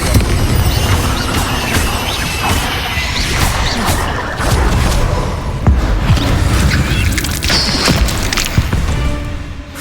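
Confringo fire spell explosions in Hogwarts Legacy go off in a dense, loud barrage of booms, crashes and bursts, overlapping blasts with thuds and debris over nearly ten seconds of game combat.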